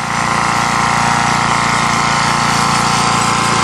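A steady, loud engine drone runs without pause, the constant mechanical hum of a generator close by, powering a welder on a farm.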